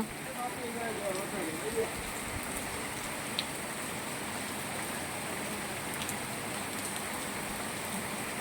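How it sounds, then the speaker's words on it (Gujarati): Steady monsoon rain falls throughout in Moti Gop, Gujarat, a dense broadband hiss of drops with a faint high hum, no other clear sounds standing out. "મસ્ત વરસાદ પડે છે મસ્ત"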